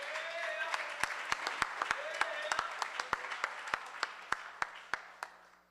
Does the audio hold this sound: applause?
yes